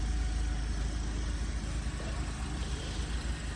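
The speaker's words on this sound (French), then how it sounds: "ce petit moteur qui ronronne, on l'entend très bien." A Volkswagen Polo GTI with its 2.0 TSI engine sits idling, giving a steady, close low rumble that holds evenly throughout with no other sounds.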